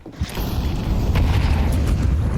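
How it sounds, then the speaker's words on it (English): A high-explosive grenade detonating in Counter-Strike 2, a sustained low booming blast with a rumbling tail filling the short stretch, loud and close with no talk. "that HE grenade a little bit too early"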